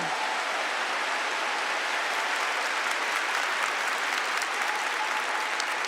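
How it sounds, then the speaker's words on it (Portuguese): A church congregation applauds steadily, dense even clapping at a moderate level that holds without a break, like a soft wash of rain, with no voices standing out. "aplaudam a Ele"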